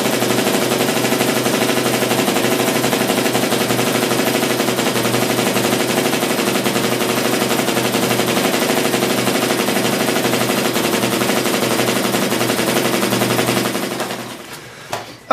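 A Blackheart Vibe .50 caliber paintball marker fires a fast, continuous loud burst of shots for about fourteen seconds before cutting off abruptly.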